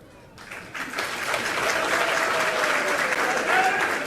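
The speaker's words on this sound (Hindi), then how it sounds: "पूरी बात हुई नहीं, तुम लोगों ने तालियां बजाई।" Clapping breaks out from a congregation during a Hindi religious discourse, starting after a brief quiet moment and swelling into a steady round of applause, with a faint voice beneath.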